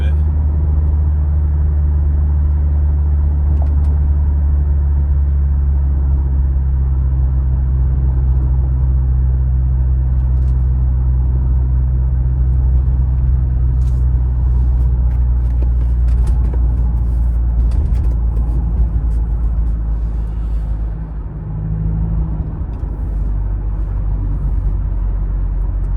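A Subaru Outback on stock exhaust driving along, a steady low rumble of engine and road noise from inside the car, loud and continuous, with a brief dip near the end.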